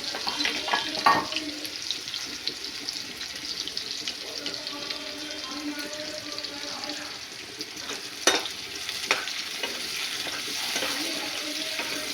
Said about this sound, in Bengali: ফার্স্টে আমি পেঁয়াজটাকে ভেজে নেব লাল করে।